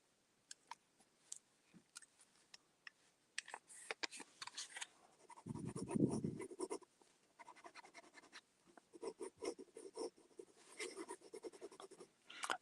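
A fountain pen nib on a dove gray barrel with a silver clutch ring scratches across paper in quick irregular strokes and taps, close and quiet, with a brief louder rustle midway.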